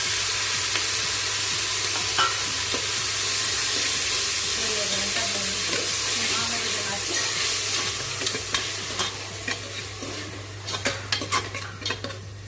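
Onion, green chilli, tomato and coriander fry in hot oil in a pan, giving a continuous close sizzle with a steady hum behind it, while a metal spoon stirs and scrapes in sharp, irregular clinks that grow more frequent toward the end.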